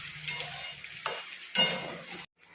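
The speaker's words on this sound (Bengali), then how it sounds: "ডিম দিয়ে ভালো করে একটু নাড়াচাড়া করে আমি এটাকে একটু বসিয়ে রাখবো উনুনে" Chow mein with egg is stirred in a frying pan over a low flame, a close sizzle with scraping strokes of the utensil that cut off sharply near the end.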